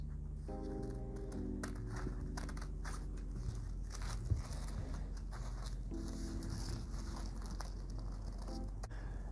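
Scissors cut through several stacked strands of tissue paper for flower petals, giving soft, faint snips over a steady low hum.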